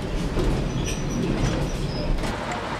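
A heritage train rumbles steadily nearby on a 1 in 40 gradient near Lightmoor Junction, with faint wheel squeals and metallic tones rising over the continuous low drone.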